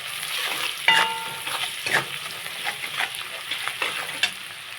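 A spice paste with turmeric and salt sautés in a pan for pabda fish curry, giving a soft steady sizzle broken by intermittent scraping stirs and small clatters, close by.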